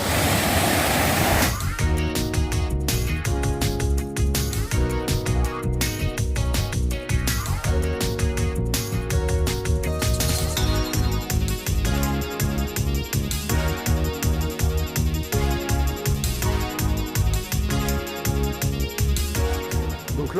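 A waterfall on the Bolaven plateau in Laos roars as a steady wash of broadband rushing water, largely covered by loud rhythmic music playing over it.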